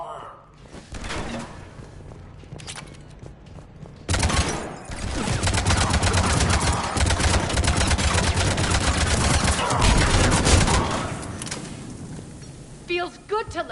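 Sustained heavy gunfire in Mass Effect 3 over the Omega skyline, a loud, dense fusillade of rapid shots lasting several seconds, with impacts and debris, starting after a quieter opening and easing off near the end.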